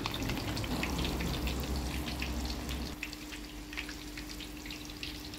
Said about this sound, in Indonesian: Kita goreng lah. Sampai dia garing lah.